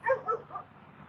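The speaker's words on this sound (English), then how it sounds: "If you guys hear that dog barking." A dog barking a few times in the distance, quick faint yips and whimpers fading out in outdoor surroundings during a walk home.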